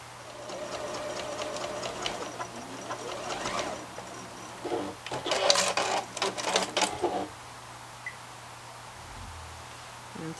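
A sewing machine stitches the seam of a fabric face mask, its needle running in quick rhythmic bursts with short pauses between runs, fairly close and alone.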